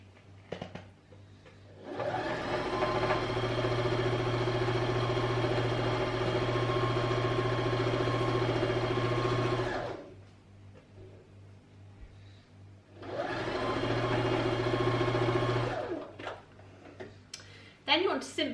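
A sewing machine stitches along the edges of a quilted hot water bottle cover, running in a steady whirring burst of about eight seconds, pausing, then running again for a shorter stretch, close and clear.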